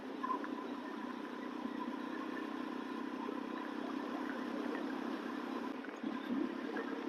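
A Yezdi Roadster motorcycle engine hums steadily throughout, with constant road noise and a brief clatter near the end; no one speaks.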